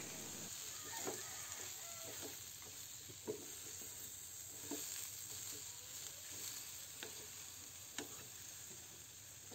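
Kangkong (water spinach) stirred slowly in a pan with pork belly and tofu, a steady low sizzle under faint scattered scrapes and soft clicks of a utensil, with no voices.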